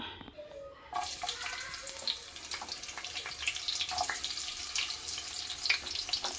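Finely chopped shallots dropped into hot oil in a pan, a bright steady sizzle with scattered pops and crackles that starts about a second in and continues close and loud without speech.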